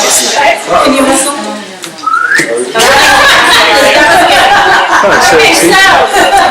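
A short rising whistle is heard amid lively chatter and laughter from several people nearby at a staff meeting.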